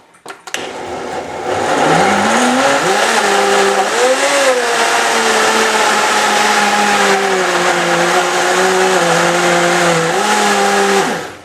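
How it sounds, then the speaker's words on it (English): A powerful kitchen blender starts after a few clicks and then whirs loudly and steadily, its motor pitch wavering slightly as the contents mix, until it cuts off at the end. "This is a very powerful blender, and we're going to go ahead and blend it, get it going."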